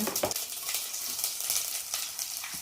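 Mustard seeds and cumin sizzling and crackling in hot oil for a vegetable kuska pulao, a steady close hiss with small popping bursts throughout, no talking.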